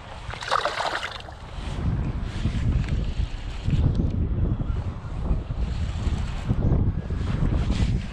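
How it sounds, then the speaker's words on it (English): Strong wind gusting across Kent Lake while fishing, a loud continuous rumbling buffet on the microphone with brief splashy water texture and no talk. "Oh, that wind picked up."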